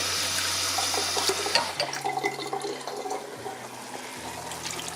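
Water pours steadily into a pan of meat simmering in napoletana sauce, a continuous rushing splash with a low hum from the stove beneath.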